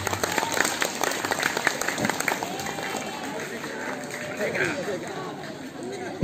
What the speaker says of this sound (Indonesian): Aplaus dulu untuk Indonesia.